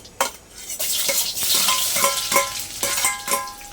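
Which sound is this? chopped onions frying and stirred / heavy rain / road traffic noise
chopped onions frying and stirred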